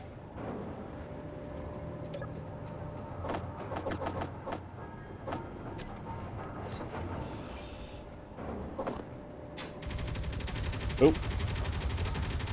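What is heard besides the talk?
gunfire in video game Space Engineers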